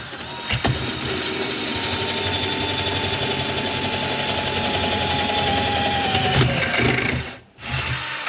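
An ALTOCRAFT 20V MAX cordless drill bores into metal, a loud, steady high-pitched whine and grinding that runs for several seconds before briefly cutting out and restarting.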